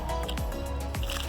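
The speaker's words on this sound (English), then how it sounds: "That's the sound of the full peas." Full pigeon pea pods on the tree shaken or squeezed, giving two close dry rattling, squishy pops a little over half a second apart over a steady outdoor background hum.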